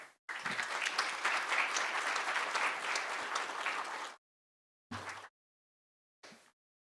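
An audience applauding to welcome speaker Sarah Cook, a steady close round of clapping lasting about four seconds before it cuts out, followed by two brief snippets of further clapping.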